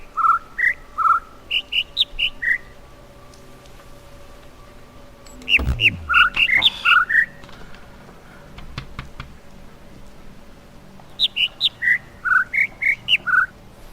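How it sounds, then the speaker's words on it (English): Bird calls from The Witness game, short bright whistled chirps in quick rhythmic phrases, repeated in three bursts over a quiet ambient hum, with a low sweeping tone in the middle. "How do you translate bird sounds into like 5 notes or something, or 4 notes?"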